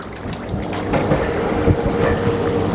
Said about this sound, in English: we'll get the skipper to turn the engine on